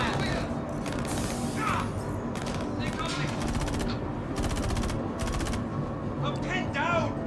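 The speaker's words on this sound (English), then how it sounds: "Suppressing fire!" Video game gunfire rattles in repeated machine-gun bursts and scattered shots amid combat noise, loud and near, with voices shouting over the fighting.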